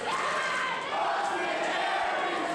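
Wrestling crowd at an International Wrestling Federation match between Austin Aries and Ricochet, a loud, sustained roar of cheering and chanting filling the arena without letup, with a commentator speaking over it.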